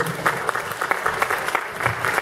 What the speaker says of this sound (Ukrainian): Чути аплодисменти в залі.